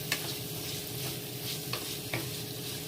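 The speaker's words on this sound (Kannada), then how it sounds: "ಕೊಬ್ಬರಿ ಇದನ್ನು ಸ್ವಲ್ಪ ಹಂಗೆ ನೀಟಾಗಿ ಫ್ರೈ ಮಾಡೋಣ" Grated dry coconut fries in oil in a pan, giving a steady soft sizzle with a few sharp stirring scrapes, close and alone with no talk.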